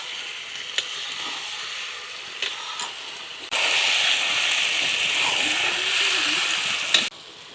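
Potatoes fry in a spice masala, giving a steady hissing sizzle that swells suddenly louder midway and holds before cutting back, with a few faint clicks of a utensil nearby.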